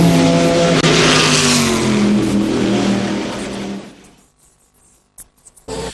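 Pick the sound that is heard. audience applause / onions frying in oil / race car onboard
race car onboard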